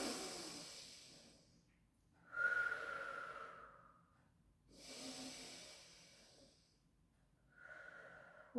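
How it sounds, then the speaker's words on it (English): Slow, deep breaths during a Pilates class for breast cancer patients, three or four long airy inhales and exhales in a quiet room, close and soft with pauses between them, with no talking. "And breath in."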